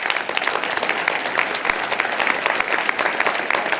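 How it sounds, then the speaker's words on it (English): Applause from a summit audience in a hall, dense and steady clapping from many hands, moderately loud and continuous throughout with no talking. "I think they should get a round of applause right now."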